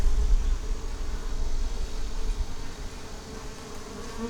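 Honeybees buzzing steadily around a newly installed nuc hive, a dense, continuous close-up drone with no voices, the hum loud and unbroken throughout.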